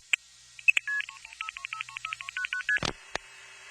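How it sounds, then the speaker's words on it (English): Push-button dialing on a landline telephone: a quick run of about a dozen short touch-tones in steady rhythm, each a crisp electronic beep, close and clear, followed by a couple of clicks. "I had to push a series of buttons, actual physical buttons, to dial the number"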